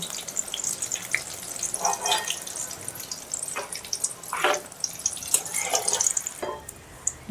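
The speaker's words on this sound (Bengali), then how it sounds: "ঠিক এইভাবে আমি সব কুমড়োলিগুলো এক এক করে ভেজে নেব।" Kumroli, thin battered pumpkin fritters, fry in oil with a soft, continuous sizzle broken by bubbly bursts and light splashy movements as they are turned.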